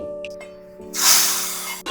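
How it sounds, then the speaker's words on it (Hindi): Quiet low hum, then a sudden loud burst of hissing sizzle as hot spiced oil is poured into kadhi, rushing and steady for about a second before cutting off. "गैस की फ्लेम बंद करेंगे और कड़ी में तड़का देंगे"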